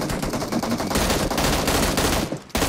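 Rapid automatic gunfire in PUBG Mobile, a dense continuous rattle of shots that runs nearly unbroken for a couple of seconds before a brief cutoff.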